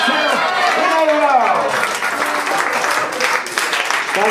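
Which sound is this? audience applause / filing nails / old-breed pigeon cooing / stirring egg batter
audience applause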